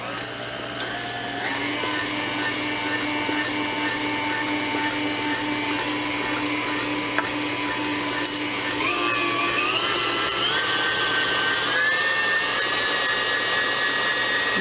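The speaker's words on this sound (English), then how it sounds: "You just want to whisk this or beat it until it's smooth." An electric mixer beats vanilla pudding mix with milk in a steady, loud whir that runs for the whole stretch, its pitch shifting slightly as the mixture thickens.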